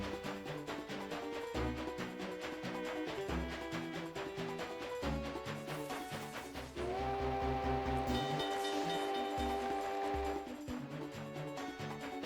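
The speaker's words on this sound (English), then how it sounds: "They're scared of a train whistle." A train whistle sounds in The Legend of Zelda: Spirit Tracks, long sustained tones recurring over steady chugging game music and effects, loud and up front with no talk.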